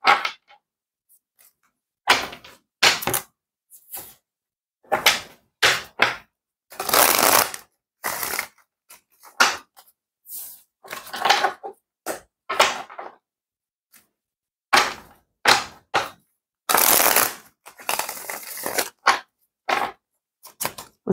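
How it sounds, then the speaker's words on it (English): Tarot cards shuffled on a table, a long run of crisp riffling bursts and slaps that come in uneven clusters with short pauses between them, close and fairly loud, with no talking. "I always shake the table when I'm shuffling on it"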